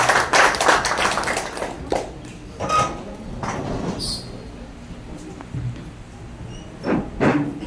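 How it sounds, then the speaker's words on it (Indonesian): An audience at a company cooperative gathering breaks into brief clapping that is loudest at first, then thins into a few scattered claps and taps with quieter gaps between. "kita beri tepuk tangan kebahagiaan untuk Bapak Mican"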